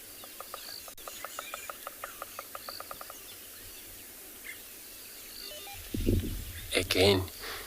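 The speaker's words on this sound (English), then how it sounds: "This bearded woodpecker that you hear knocking that wood." A bearded woodpecker knocks on wood at sunset in the Tswalu bush, a faint, even series of about a dozen quick taps over three seconds, followed later by a louder burst of rustling and calls.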